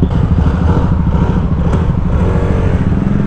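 A motorcycle's exhaust pipe drones in a steady, loud, close rumble with light mechanical clatter and a slight rise near the middle, and no talking.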